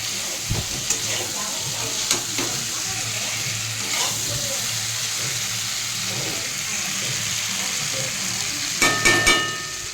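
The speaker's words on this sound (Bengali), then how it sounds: "গোলমরিচ গুঁড়ো দিয়ে রান্না করছি" Chicken cooks in a pan with black pepper powder, sizzling and frying steadily while a utensil stirs and scrapes now and then, with a few louder clattering stirs near the end.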